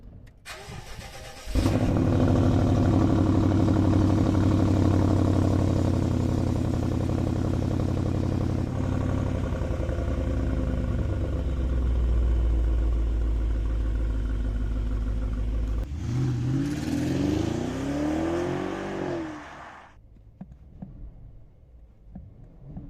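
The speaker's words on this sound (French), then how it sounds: "On va démarrer le V8. On met le contact. Écoutez ça." A BMW X6 50i with a V8 engine fires up with a starter whir and a loud rumbling catch, then settles into a deep, steady idle, with a brief blip of revs before it quiets near the end.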